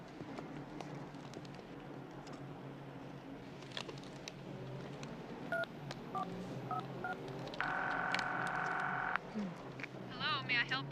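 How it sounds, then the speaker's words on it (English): Rapid telephone auto-dial tones beep in a quick series of short tones on a phone, ending in a longer sustained tone and then warbling ring sounds, with quiet background noise and no talking. "Haven't seen one of these yet without some kind of auto dial"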